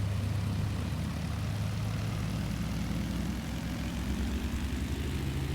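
A BN-2 Islander's propeller engines drone steadily and loudly in Microsoft Flight Simulator, a continuous low hum with a buzzing tone as the aircraft rolls, with no talk.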